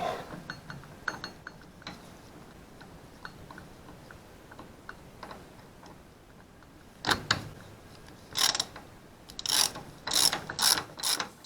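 A hand ratchet clicks as it tightens the brake caliper bolts on an aircraft wheel, with light ticking early on and louder, faster clicking bursts toward the end, close up.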